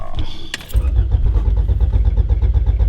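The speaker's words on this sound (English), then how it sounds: "It just died and now it's not starting." Honda Civic with a built B18 engine that has just died, cranking repeatedly without catching, a rapid rhythmic starter churn, loud and close, following a brief click-like sound.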